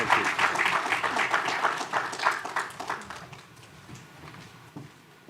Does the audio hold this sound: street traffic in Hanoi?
no